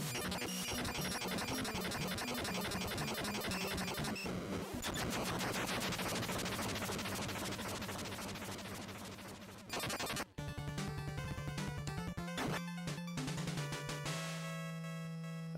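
Chiptune explosions from bombs in the NES shooter Gun Nac, harsh noisy blasts and rapid-fire bursts layered over constant 8-bit music, loud and continuous with a brief dropout midway.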